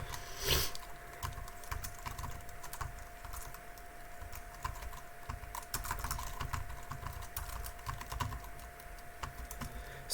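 Rapid clattering keystrokes on a computer keyboard while entering a web address on a Debian system, close and steady for the whole stretch, with no one speaking.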